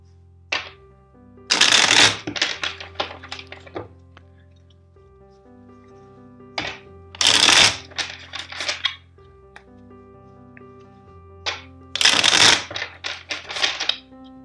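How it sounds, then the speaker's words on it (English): A deck of tarot cards riffle-shuffled in three bursts, each a crisp fluttering rush ending in a quick bridge, with near silence between bursts. "let's shuffle the deck 5 times for you."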